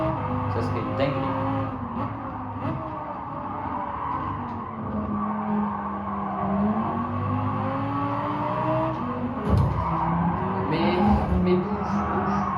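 Racing video game car skids and tire squeals under a droning engine, a continuous mix of sliding and revving, with a player talking over the game audio.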